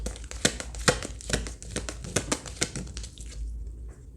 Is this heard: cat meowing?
no